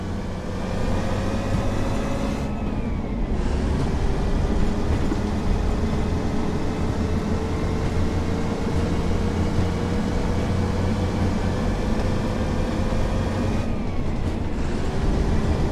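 A UK diesel train in Train Sim World 4 pulls away and accelerates at a high power notch, its engine droning steadily with gear shifts heard as brief dips in pitch around the 3- and 14-second marks.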